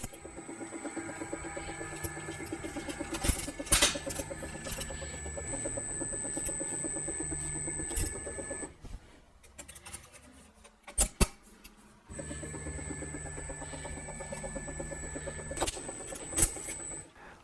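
A sheet metal edge runs through a wiring machine at moderate pressure to wrap it around a wire, making steady mechanical grinding and whirring in two long passes separated by a brief quieter pause with a few sharp clicks.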